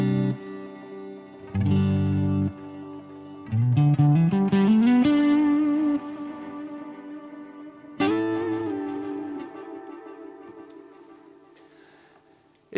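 Distorted electric guitar notes run through a Wampler Ethereal delay pedal. Each note is followed by gritty repeats that fade away, and several notes ring out with long tails and no voice.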